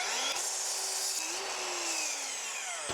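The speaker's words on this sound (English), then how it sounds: "Now I'm cutting through screws." A power saw runs continuously through glued wooden pergola framing, a loud, dense whine that changes pitch slightly as the blade bites through embedded screws.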